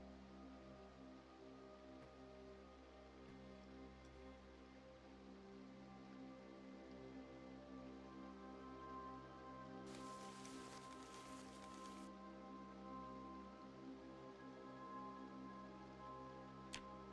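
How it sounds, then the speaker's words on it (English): Steady rain falls in the survival video game Project Zomboid, a soft, continuous patter of drops on surfaces with a low ambient hum underneath and a brief hiss burst midway. "And it's raining as well"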